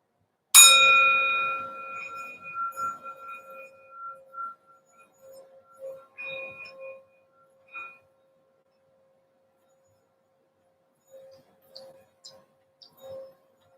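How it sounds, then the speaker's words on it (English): A resonant bell or singing bowl struck once to open a yoga ceremony, a bright ringing tone that decays slowly with lingering overtones, followed by softer scattered chimes and clinks, quiet and close with no speech. "Just feel for the vibration of the bell."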